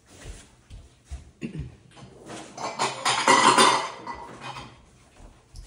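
A bowl is pulled out from among dishes in a home kitchen, with clattering ceramic and clinking cutlery that builds to a dense rattle mid-clip before settling, close and fairly loud.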